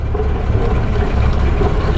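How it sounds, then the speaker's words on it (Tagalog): A boat engine runs loud and steady in second gear on a sea trial aboard the triple Z, a continuous low droning rumble with no talk over it. "medyo maugong kasi makina pag segunda"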